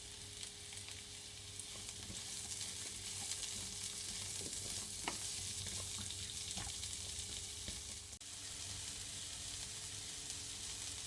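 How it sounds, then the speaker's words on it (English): Chopped onion sizzles steadily in a pan over medium heat, a dense continuous frying hiss with occasional soft scrapes of a utensil stirring through it, heard close and alone for about eleven seconds. "Then add the onion and keep cooking on medium heat,"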